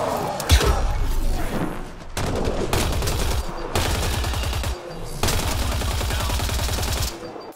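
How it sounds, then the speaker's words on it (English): Sniper rifle fire in Mass Effect Andromeda, loud close gunshots in rapid bursts with thumping impacts between short pauses. "Sniper rifle."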